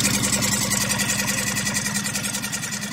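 A Suzuki DF6 four-stroke outboard motor runs in a tub of water for break-in, a steady close idle with a rapid, even pulsing throb and no voices.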